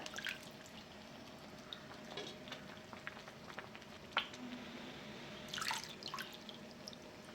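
Water drips from grated potato as it is squeezed by hand in a kitchen while making sabudana potato papad, faint and irregular, with scattered small drops and trickles over quiet room noise.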